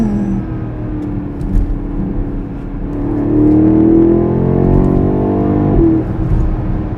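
A BMW X6 M50i V8 in Sport Plus mode accelerating hard, its engine and exhaust rising in a deep, heavy drone that swells through the middle of the run, then shifts and settles, close and loud with no talking.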